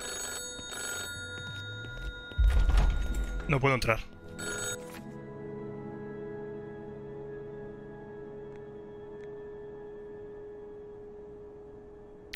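An old-style telephone bell ringing in the shooter video game Industria, a loud burst of jangling rings about two seconds long while someone speaks, then dying away into a quiet, humming ambience.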